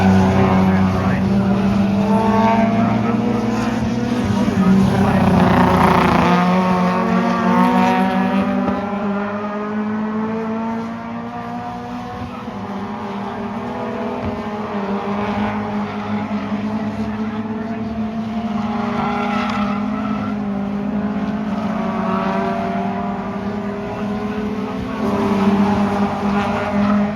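Race cars at a Time Attack racing event drone steadily with loud sustained engine roar, rising and falling as they pass, with a commentator talking over it throughout.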